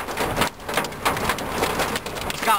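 Quarter-size hail falls 3 miles northeast of Pratt, a dense, steady patter of hard impacts on surfaces that stays close and constant throughout with no voices.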